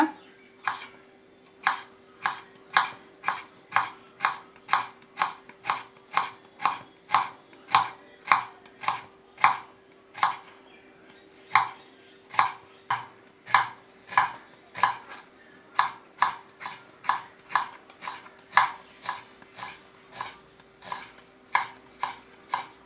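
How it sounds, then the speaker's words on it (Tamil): A knife cuts onion into long strips on a board for beetroot vinegar pachadi, with steady, evenly spaced sharp chops, roughly two per second, repeating close up for the whole stretch. "நீட்டு நீட்டமாக கட் பண்ணிக்கோங்க"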